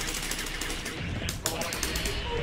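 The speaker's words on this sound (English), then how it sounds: "If you block the inbound gunshot, the super is guaranteed" Rapid gunfire from an inbound gunshot super in the fighting game Marvel vs. Capcom 2, with bursts of shots crackling under game sounds and a sharp hit near the middle.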